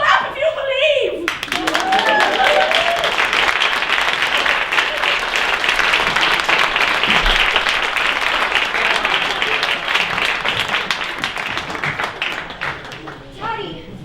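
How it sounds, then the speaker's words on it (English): A crowd claps hard and continuously at an event, loud, dense applause that swells right after a brief opening and holds steady, fading only near the end. "Now clap if you believe."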